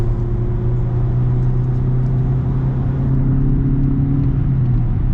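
A 2013 VW Golf 7 1.6 TDI highline with manual gearbox driven hard through corners gives a steady, loud engine drone and road rumble from inside the cabin, holding a sustained tone with slight pitch shifts.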